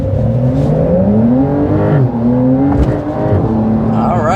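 A 2023 Porsche 911 GTS accelerates to 55 mph, its engine note rising through the gears as a loud, continuous drone from inside the cabin, with brief pitch dips at each shift.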